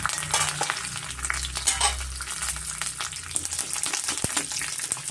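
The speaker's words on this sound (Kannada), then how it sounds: "ಇವಾಗ ಇದಕ್ಕೆ ನಾನು ಸಾಸಿವೆ ಕರಿಬೇವು ಉದ್ದಿನಬೇಳೆ ಕಡಲೆಬೇಳೆ ಜೀರಿಗೆ ಸೇರಿಸ್ಕೊಂತ ಇದ್ದೀನಿ" Mustard seeds, curry leaves, urad dal, chana dal and cumin fry in hot oil for hotel-style shavige uppittu, a loud dense crackling sizzle with occasional popping and stirring.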